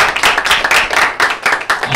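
Worship meeting congregation clapping for Jesus Christ, a dense, steady burst of many hands close by, with uneven rhythmic swells and no talking over it.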